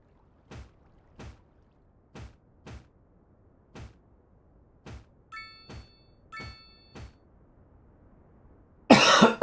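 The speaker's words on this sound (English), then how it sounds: "Yeah, I've still got that irritating cough." A person coughing in short, dry bursts, about eight separate coughs spaced irregularly, fairly close, with a few faint clinks between and a louder rustling burst at the end.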